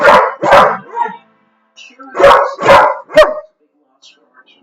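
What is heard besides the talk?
dog barking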